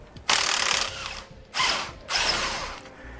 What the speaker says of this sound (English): we'll use a 1 1/8 inch socket to remove the nuts